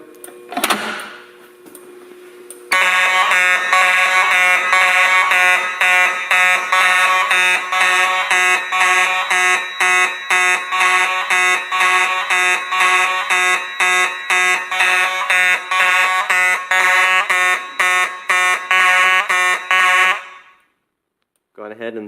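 A fire alarm system's horns blare in a steady, loud pulsing rhythm for about seventeen seconds after a pull station is activated, starting abruptly and cutting off just before the end, with a brief spoken lead-in before they begin.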